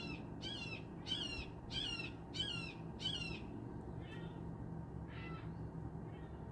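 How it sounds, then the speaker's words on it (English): A red-shouldered hawk calls outdoors in a run of five evenly spaced, sharp repeated cries, followed by a couple of fainter, farther calls over a steady low background hum. "that's the red-shouldered hawk"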